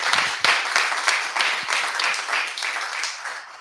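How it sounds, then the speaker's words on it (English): Applause at an awards competition, a dense patter of clapping with a few sharper individual claps standing out, moderately close and fading slightly toward the end. "Applause to everybody"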